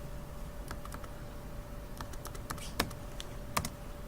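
Typing on a computer keyboard, a series of sharp key clicks in irregular bursts, close and clear over a low steady hum, with no talking.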